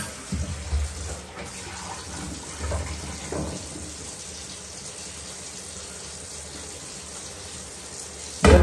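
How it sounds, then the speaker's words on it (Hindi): Tap water runs steadily into a container being filled for watering flower pots, a continuous hissing splash heard up close at moderate loudness, with a brief knock at the end. "ते अप्पा हुण भर रहे हैं पानी, गमलियां नू पानी पाना है।"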